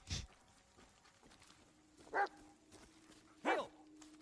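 A dog barks in the Blair Witch video game: a sharp bark up close at the start, followed by two shorter, fainter barks or yips about a second apart, set against a quiet, low ambient hum.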